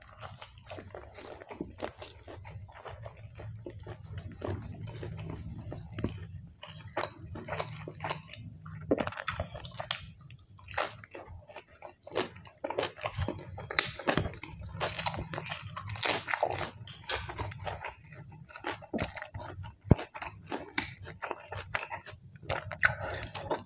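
Crispy fried sun-dried pork is chewed close to the mic, with steady crunching and wet bites repeating for over twenty seconds and no clear speech.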